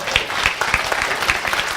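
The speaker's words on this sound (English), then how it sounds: "Give him a round of applause" A round of applause for a participant during a mind-power demonstration, made up of a moderate number of people clapping in brisk, clearly separate claps, fairly close and alone.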